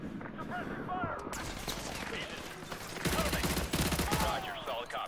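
Rapid automatic rifle fire and scattered shots crack through a Call of Duty: Modern Warfare 2 campaign battle, loud and continuous, with a heavier burst in the second half. Shouted soldier voices mix into the firefight.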